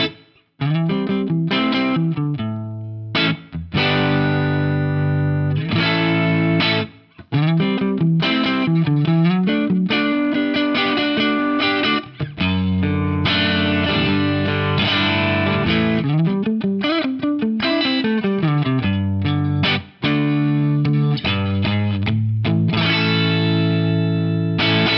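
Electric guitar on the tapped neck pickup of a PRS DGT, played through a compressor pedal in a Fractal VP4, a continuous loud passage of chords and single notes with even, fattened sustain and brief gaps between phrases.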